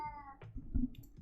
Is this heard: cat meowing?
yes